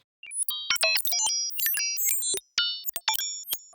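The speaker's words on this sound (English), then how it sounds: "metallic percussions with built-in glitch delay," Sharp metallic synth percussion hits ring out in an irregular burst from an experimental drum synth built in plugdata, with bright tonal pings and stuttering glitchy delay repeats between short silences.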